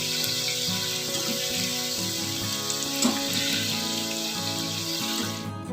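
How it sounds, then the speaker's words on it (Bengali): Potatoes frying in a pan until golden brown, a steady close sizzle with a faint crackling hiss running throughout, with no talk. "এইভাবে গোল্ডেন ব্রাউন করে আমি আর একটু ভাজা হলে তুলে নেব।"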